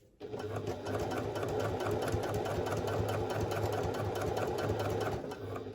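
A sewing machine basting fabric at a long stitch length starts up and runs in a fast, even whirring hum with a steady mechanical pulse, close by and uninterrupted.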